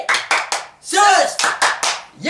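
Several sharp hand claps in a quick rhythmic pattern at a children's Sunday school church service, close and loud, broken by a sung or shouted voice between the groups of claps.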